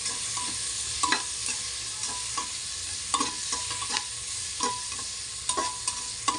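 A spoon stirs masoor dal masala with tomato and turmeric in a hot pan, making a soft continuous sizzle broken by irregular scraping clicks, close up and alone.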